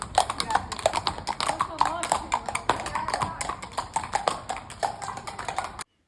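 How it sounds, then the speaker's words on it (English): Horses clip-clop over cobbles in a London mews, a steady run of close, sharp hoof taps that carries on for about six seconds against street ambience. "It's great to hear the horses clip-clopping along the cobbles."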